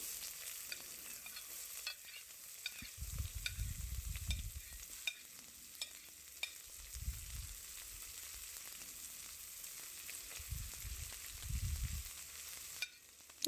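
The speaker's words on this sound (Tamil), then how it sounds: "வெட்டி வச்ச வெங்காயம், பச்சை மிளகாய், கருவேப்பிலை மூண்டையும் போட்டு வதக்க போகிறேன்" Onion, green chilli and curry leaves sauté in a pan for spicy chicken curry, giving a steady faint hiss and sizzle broken by several low scraping stirs of a spoon, with no talking.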